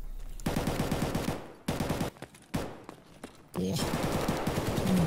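Bursts of AKM rifle fire in the shooter game Escape From Tarkov, rapid automatic volleys starting and stopping in several separate strings, fairly loud, with a brief voice exclamation between them.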